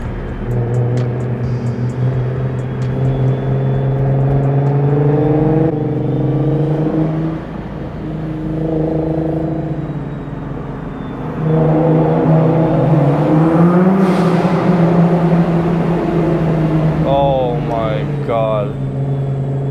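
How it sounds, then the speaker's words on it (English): A Nissan GT-R R35 engine revs repeatedly up close, its deep drone rising and falling in pitch, with a sharper rev burst near the end. "And his car sounds so good."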